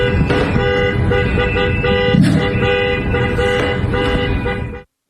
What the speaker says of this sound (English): The video appears to show Good's SUV partially blocking the street, honking her horn